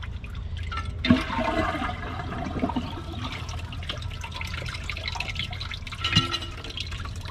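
A toilet flushes with thick tissue paper in the bowl, a steady rushing of water lasting throughout with a couple of louder gurgling surges and drips, and no voices.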